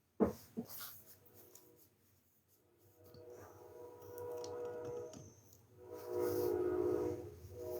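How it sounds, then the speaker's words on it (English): A passing train outside during a live talk show, heard as a broad rumbling swell that rises in the middle and again near the end, with a faint whistle-like tone, fairly distant and steady. "As we have the train going by"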